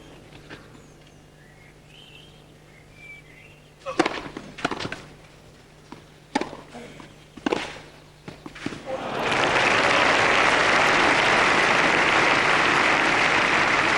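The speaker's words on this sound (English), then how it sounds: "Good to see him lead the applause." Tennis crowd at the 2002 ATP World Team Championship, Blake versus Enqvist, breaks into sustained loud applause after a few scattered claps and thuds, a broad steady roar that holds to the end.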